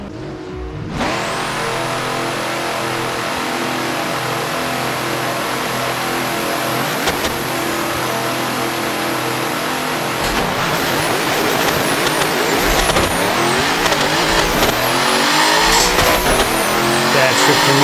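A simulated 3000 HP LSX turbo GMC Suburban drag races in Assetto Corsa, its engine roaring loud and sustained from launch, climbing steadily with brief shifts and a rising, harsher growl toward the end.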